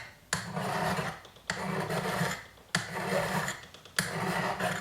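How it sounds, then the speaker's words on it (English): A metal file rasps over a copper matchbox cover in four long, steady strokes, each starting with a scrape and grinding on evenly, close and clear with no talking. "So I'm just going to file this down and then sand it down."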